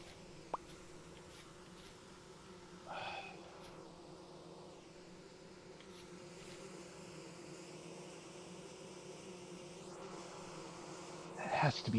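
A continuous buzzing drone of bees in the game Vintage Story, with a faint hum beneath it, a short plop-like bump early on and a louder noisy burst near the end.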